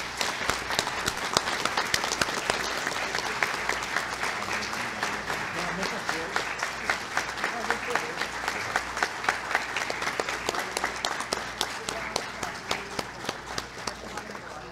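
An audience at a spiritist lecture gives a sustained round of applause, dense steady clapping from a full room lasting over ten seconds, with crowd voices mixed in.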